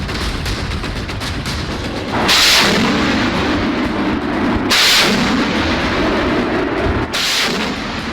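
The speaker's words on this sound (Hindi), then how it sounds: "रात के अंधेरे में आग उगल रहा यह है PM-40 रॉकेट लॉन्चर।" A PM-40 rocket launcher fires at night in a battle in Panjshir, Afghanistan, with loud booming launches roughly every two and a half seconds, each followed by a long roaring rumble over continuous dense noise.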